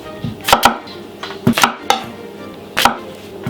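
A knife cuts russet potatoes into large chunks on a board, sharp close thuds in small irregular clusters with quiet gaps between them.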